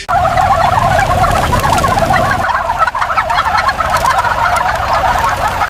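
A dense flock of hundreds of territorial turkeys blocking traffic, gobbling and clucking together, a continuous loud chorus of overlapping calls with low background rumble.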